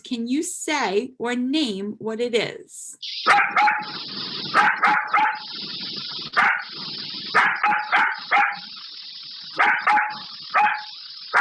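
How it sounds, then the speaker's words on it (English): A person speaks briefly, then a puppy lets out a series of sharp, high-pitched yappy barks in irregular bursts, close and clear. "So you probably said it sounds like a puppy barking"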